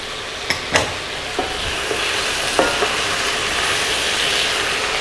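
Pork adobo frying and sizzling in a pan as peppercorns are added, with a few sharp clicks and taps up front over a steady close sizzle.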